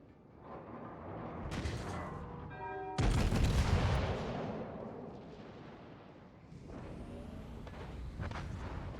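Heavy naval gunfire from the rear turrets of HMS Hood in World of Warships: a broad, booming salvo blast around the middle, followed by a long rumbling roar and decay, with other loud battle noise before and after.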